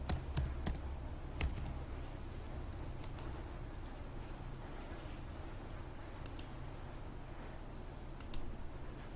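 Keys clatter on a computer keyboard in a steady stream of quiet, close clicks over about nine seconds, with a few sharper taps standing out and no voices.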